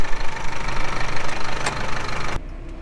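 A tractor engine chugs steadily and loudly while spreading slurry, its low knocking rumble continuous before dropping away abruptly near the end.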